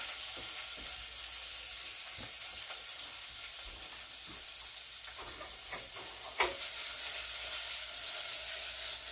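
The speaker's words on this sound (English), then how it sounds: "I'm just tossing them in the oil while I'm waiting on those just to start to soften" Sliced jalapeños fry in hot oil with a steady, soft sizzle and light crackle throughout, a brief louder clatter of stirring partway through, no talking.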